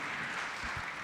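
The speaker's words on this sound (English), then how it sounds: "Let's give Premier a big round of applause." Applause from a summit audience: a fairly faint, steady wash of many hands clapping, blended together with no single claps standing out.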